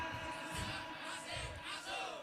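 Crowd at a community fast-breaking gathering of an Indonesian migrants' association shouting a group cheer together, loud and sustained with rising bursts of many voices.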